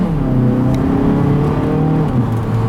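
A 2019 Mazda CX-3 Grand Touring AWD blips its engine on a paddle-shift downshift, a loud, close, steady drone with the revs climbing and dipping over a few seconds, no talking.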